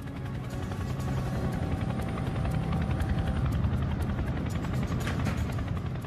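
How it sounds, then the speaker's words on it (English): Large Chinook helicopter flying in low over Scottish waters, heard from a sailing boat: a steady, loud rotor thump and engine drone that swells slightly as it draws nearer and holds throughout, with no voices. "Out sailing, Mark Holbrook hears the sound of a large helicopter coming in low"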